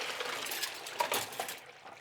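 Dirty, foul-smelling water poured out of a kitchen container, a steady close splashing and trickling for about two seconds, with small clinks against the vessel and no talk.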